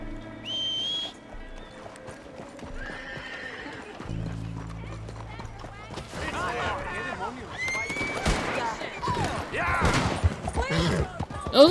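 Horse in Red Dead Redemption 2 whinnies near the start, then hooves clip-clop and shots crackle amid a busy in-game scene, with voices talking over it.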